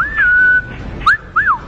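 A person whistles in imitation of the whistle of an Andean condenado ghost, giving a long sustained tone and then two short rising-and-falling whistles, close and clear with no talk.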